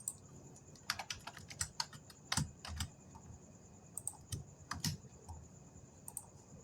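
Code being typed on a computer keyboard during a Python programming lesson, with close, crisp keystrokes arriving in irregular quick bursts and short pauses, and no voices.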